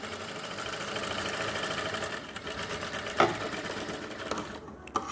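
A sewing machine stitching a zip onto a pair of women's pants, running in a steady, close mechanical whir for the whole stretch, with a couple of brief knocks near the end.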